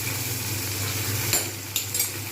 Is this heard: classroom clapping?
no